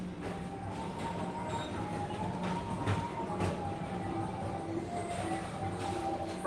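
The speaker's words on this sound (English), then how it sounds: "This train keeps on rolling through the future." The Tomorrowland transit train ride at Magic Kingdom rolls along with a steady, even rumble and a faint sustained whine that drifts slightly in pitch, with no talking over it.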